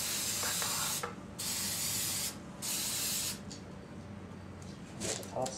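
Bursts of spray paint hiss onto an airsoft mask, several long sprays of about a second each separated by short pauses, close and loud, with faint background noise.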